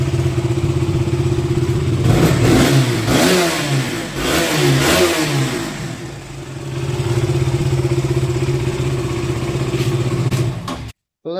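A second-hand motorcycle at a used bike showroom starts and revs repeatedly, its engine rising and falling in loud close bursts over a steady running drone before cutting off at the end.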